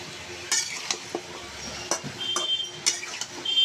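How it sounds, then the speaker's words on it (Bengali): Spoon stirring a potato and pointed gourd curry with river fish in a pot, giving scattered scraping clinks over a faint background sizzle. "সুন্দর করে নেড়ে চেড়ে আমি ডেকে দেবো।"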